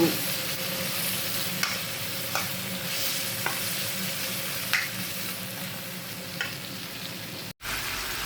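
Vegetables and meat seasoned with pepper are stirred in a sizzling pan, a steady frying hiss with the soft scrape of a utensil every second or so, close and continuous.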